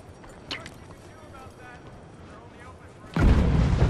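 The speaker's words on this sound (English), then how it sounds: "Explosion." Quiet ambience with a small knock, then a sudden loud booming explosion in Red Dead Redemption 2 bursts in near the end and keeps rumbling.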